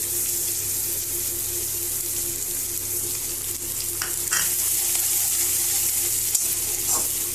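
Ginger, garlic, chopped chilli and onion frying over high heat for a chicken satay sauce, a constant loud sizzling hiss with a low background hum and a few brief scraping sounds.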